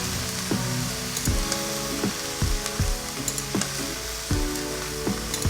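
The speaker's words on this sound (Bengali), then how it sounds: "বাঁধাকপির সাথে এই সমস্ত মশলা ও আলু এইভাবে খুব মাঝারি আঁচে" Cabbage and potatoes with spices fry over medium heat in a pan, giving a steady close sizzle broken by repeated clattering utensil knocks and scrapes as the vegetables are stirred.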